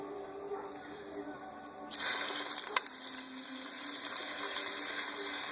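Water pouring from a quart canning jar, a quiet hum giving way to a sudden bright, steady splashing rush that continues to the end, fairly close.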